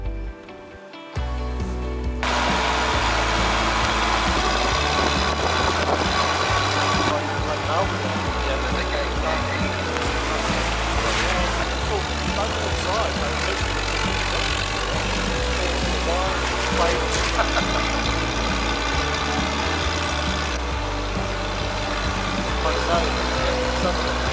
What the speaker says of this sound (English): It was about now that I had a moment when the Land Rover stopped and lurched backwards for a tad, but Cameron managed to gain control